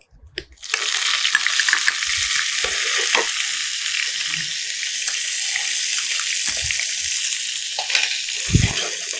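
Long-cut onion slices drop into a hot pan for capsicum chicken rice and sauté with a steady, even sizzle, with a few faint scrapes from stirring.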